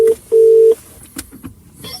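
A telephone ringback tone during an outgoing call, two steady electronic tone bursts, the second longer, close and clear over quiet line noise, followed by faint clicks and rustle.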